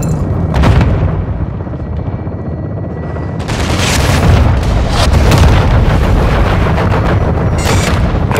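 Heavy artillery fire and explosions in Call of Duty Modern Warfare II, with a sharp blast early on and then a loud continuous barrage of booming shots and rumbling detonations.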